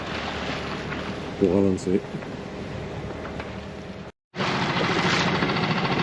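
A sailboat motoring under engine with a little genoa set on a calm, windless morning near Menorca, steady engine drone and wind rush around the boat, with someone speaking French over it.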